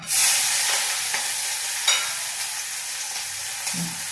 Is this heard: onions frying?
yes